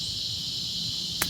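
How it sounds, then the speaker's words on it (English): Loud cicadas outdoors on a summer morning or evening make a continuous, steady high-pitched buzzing drone with no pauses, and one brief click comes near the end. "listen to the cicadas. They're so loud."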